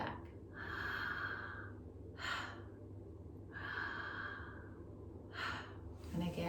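Slow, deep breaths during breathwork, heard close: long airy inhales alternating with shorter, sharper exhales in a steady, unhurried rhythm, repeated twice.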